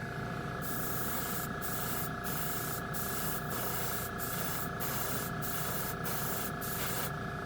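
Gold chrome spray paint hisses steadily from a can, misted on in a continuous, fairly loud spray with faint periodic pulses and no talking.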